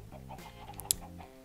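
Chickens in the Minecraft video game give soft clucks under low background sound, with one brief sharp click near the end.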